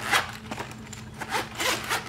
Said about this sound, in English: I want to show you how easy it is to zip up.